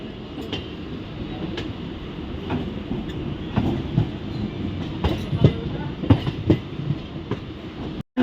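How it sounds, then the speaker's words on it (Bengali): A Katwa–Howrah local passenger train enters a loop line, rumbling steadily with clickety-clack wheel beats and sharper clanks as it crosses points, ending in an abrupt cut. "দেখো লুপ লাইনে যখন ট্রেন প্রবেশ করছে"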